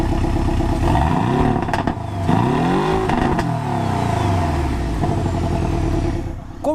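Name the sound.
Porsche 718 engine and exhaust revving in sport mode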